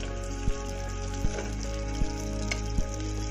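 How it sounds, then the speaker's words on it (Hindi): Chopped onions fry in a pan for tori aloo sabzi, a steady low sizzle punctuated by four or five evenly spaced spoon taps against the pan, with no speech. "फिर हमने कटी हुई प्याज डाल दी इसके अंदर। हमारी प्याज थोड़ी लाल हो"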